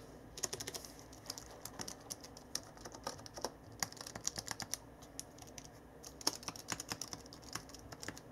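Quiet, soft clatter of typing on a Gigabyte Force K7 low-profile keyboard, with rapid irregular key taps heard close and faint, no talking.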